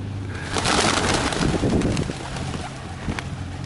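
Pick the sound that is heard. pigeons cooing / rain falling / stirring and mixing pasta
pigeons cooing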